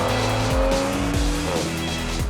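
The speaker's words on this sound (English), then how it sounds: "this engine also sounds great. It is enhanced by the M Sport exhaust unit" BMW M340i engine with M Sport exhaust, a deep throaty rumble revving up in quick surges with gear shifts and a growling, burbling tone, loud and close with no talking.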